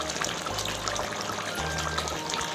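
Hot water pours in a steady, soft splashing stream during a duck and yam cooking session. The pour is faint and continuous, and a low hum runs underneath it.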